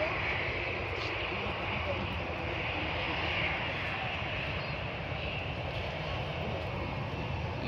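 A Kuwait Air Force C-17 Globemaster taxis at Manchester Airport, its engines producing a steady, loud, broad roar with a high whine that holds constant throughout.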